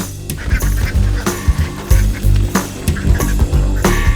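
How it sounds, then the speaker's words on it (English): Ducks quack repeatedly on a farm in Bali, a close, loud run of harsh calls with no talk. "I just hope I can find the right duck."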